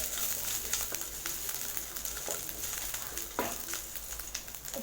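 Chopped chilies and ginger sautéing in a pan for curd rice, a steady close sizzle of frying with occasional soft clicks of stirring.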